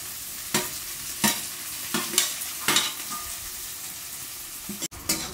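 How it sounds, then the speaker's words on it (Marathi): Tomatoes and curry leaves frying in a pan for a Konkani wet cashew masala, with a soft continuous sizzle broken by five or six sharp stirring scrapes at a steady, unhurried pace, near and alone. "आता आपण त्यामध्ये टोमॅटो टाकून घेऊ. आणि टोमॅटो सोबतच कढीपत्ता इकडे टाकून घेऊ आपण यामध्ये."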